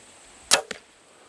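A sharp twang and whoosh of a compound bow releasing an arrow, followed by a quick softer thud, close and alone in a quiet setting.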